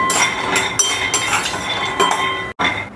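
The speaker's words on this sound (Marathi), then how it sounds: "त्यात हे शेंगदाणे टाकून घेते. आणि शेंगदाणे जरासे कलर चेंज होईपर्यंत भाजून घ्यायचे." Peanuts tumble and rattle in a hot kadhai on a gas stove, a dense stream of dry clinking and scraping that stops abruptly near the end before resuming.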